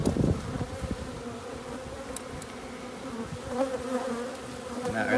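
Honeybees hum in a steady, close drone from an open beehive, its frames holding capped honey, pollen and drone brood; the buzzing runs continuously throughout with no one talking.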